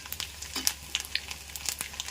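Garlic and cumin fry in hot oil for an eggplant curry, a steady close sizzle with crackling pops spread throughout.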